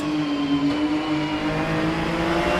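Porsche race cars sliding through a corner at the Sachsenring during a German Grand Prix Porsche Supercup sprint race, engines roaring loud and steady with a sustained high whine for a few seconds.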